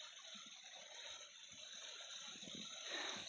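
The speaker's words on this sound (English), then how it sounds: "Look at that water. Definitely a good water source up here." Water steadily flowing and gushing at a water source beside rock steps on a hiking trail in Lake Catherine State Park, a continuous soft rushing with no talk.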